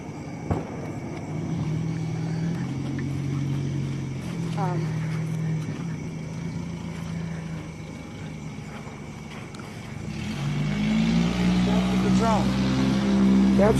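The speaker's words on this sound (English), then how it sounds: "Wish I could hear but this loud ass muffler on this piece of shit right here." A loud car with a noisy muffler idles and revs in the street during unrest in Ferguson, Missouri, its droning exhaust hum steady throughout and swelling louder near the end, with people talking over it.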